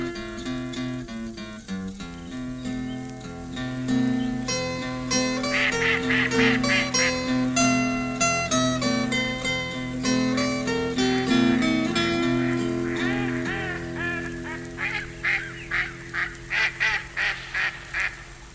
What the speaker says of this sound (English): But best of all I like the ducks who swim in Trumpton Park.